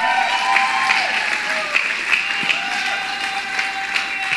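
Church congregation clapping in a steady, dense round of applause with a few brief cheers, loud and close.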